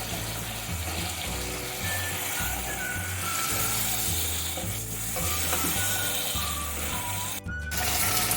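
Pointed gourd (potol) frying in a cooked spice masala for Bengali katla fish curry, a steady close sizzle with repeated stirring and scraping in the pan and a brief clatter near the end.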